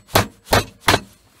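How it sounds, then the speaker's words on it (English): Hammer blows knocking pins out of a brass microwave part, three sharp close strikes evenly spaced about a third of a second apart, with no talk. "Hammer it."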